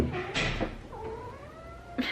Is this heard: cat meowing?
yes